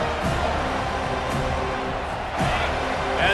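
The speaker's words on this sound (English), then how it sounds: "listen to the roar of this crowd" Stadium crowd roaring in EA Sports College Football 25 during a Florida State versus Florida game, a steady broad wash of crowd noise with swells near the end.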